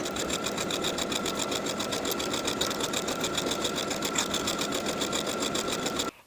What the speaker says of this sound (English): Sew close to the upper inner fold all the way around to create the bottom hem.